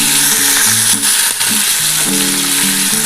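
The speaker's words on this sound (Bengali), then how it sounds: "পেঁয়াজ আর কাঁচা লঙ্কাটা একসাথে ভেজে দিচ্ছি" Onion, ginger, garlic and green chili frying in oil for a Bengali egg curry, giving a loud, dense, continuous sizzle close up with a brief stirring scrape, with no talk.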